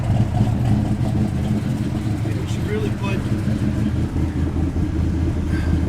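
A 1970 Plymouth Duster with a freshly rebuilt engine idles with a steady, deep rumble close by, while someone talks over it.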